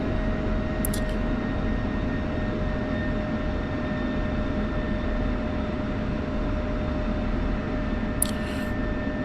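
A simulated F-16 jet engine, in a DCS flight game, holds a steady broadband roar with a faint whine running up before takeoff, loud and continuous throughout with no talk.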